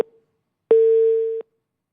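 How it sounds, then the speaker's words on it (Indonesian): A telephone busy signal on a dropped call: a click, a pause, then one steady beep of under a second, cut off by another click, with silence after. "kami sambil terus perbaiki hubungan sambungan telepon dengan pengamat politik Adi Prayitno"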